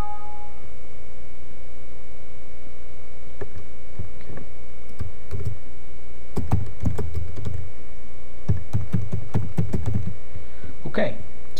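Computer keyboard typing in bursts of quick keystrokes at an office desk, a few isolated taps first and then denser clusters of clicks, close and clear over a quiet room.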